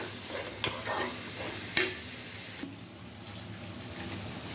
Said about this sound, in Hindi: प्याज अच्छी तरह से जो है वो हमने घी में भून लिया है।